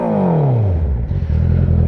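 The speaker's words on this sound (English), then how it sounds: "I don't want to rev the bike too loud, but just give you a little taste of" A 2019 Honda CBR650R's exhaust revs briefly and loudly up close, the engine note dropping quickly as it falls back toward idle, followed by a rough rumble.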